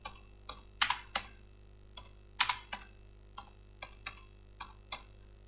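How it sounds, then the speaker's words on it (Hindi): Keys on a computer keyboard are typed in short uneven bursts, a dozen or so distinct clicks with a couple of louder clustered strokes, over a steady low hum. "अब हम यहाँ पे लिखेंगे, कैप्स लॉक कर देंगे, लियाकत।"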